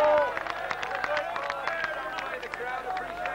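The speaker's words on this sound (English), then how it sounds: "The crowd appreciate that." A crowd at a 1985 All England bowls match breaks into a steady patter of applause, many hands clapping at middle distance for a few seconds, with faint murmuring underneath.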